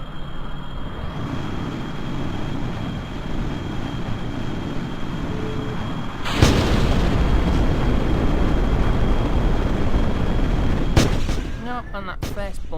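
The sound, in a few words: aircraft jet engine at full throttle on runway, Kerbal Space Program video game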